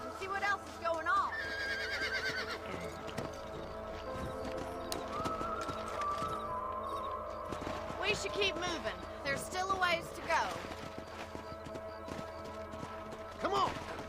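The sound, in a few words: horses galloping in Red Dead Redemption, video game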